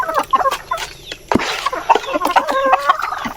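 Peking ducks and heritage chickens on a farm cluck and call close by in a busy, overlapping chorus of short repeated squawks.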